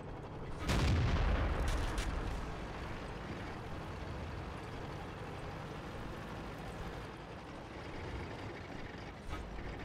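A tank shell strikes a Tiger P in World of Tanks with a sudden heavy boom and crunching impact, followed by a rumbling low engine and vehicle drone that fades into a steady background.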